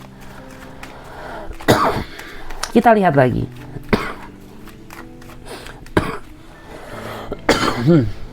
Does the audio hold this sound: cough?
yes